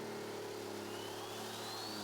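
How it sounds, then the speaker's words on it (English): Alcohol-burning pulling tractor engine revving hard at an outlaw tractor pull, a loud continuous high-pitched whine with a rising tone, close and steady with no talk. "Now, this is an alcohol burning tractor."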